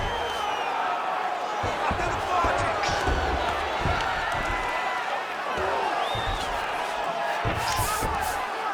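A crowd roars and cheers without a break in the EA UFC 5 video game during a Jorge Masvidal versus Charles Oliveira bout, a dense arena din with scattered whoops and dull thumps.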